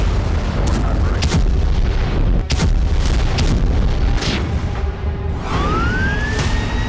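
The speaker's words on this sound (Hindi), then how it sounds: "यूक्रेन के किसी बड़े सैन्य ठिकाने पर होते हैं धमाके" Explosions at a Ukrainian military base during a Russian strike, several heavy booms and sharp blasts in quick succession over a rumbling background, with a rising siren-like whine near the end.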